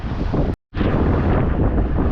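Strong stormy wind roars and buffets the microphone at sea on a fishing trip, a loud continuous rush broken by a brief dropout.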